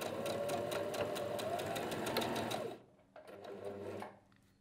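Brother GS2700 sewing machine stitching forward, a fast steady rhythmic needle clatter that stops abruptly, then a shorter softer burst of stitching before going quiet.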